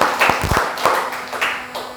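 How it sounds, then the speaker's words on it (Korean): Scattered applause rises from a church congregation during a Palm Sunday service, with a few separate bursts of clapping of moderate loudness and no speech over it. "저에게 감사와 영광의 박수 올려드리겠습니다."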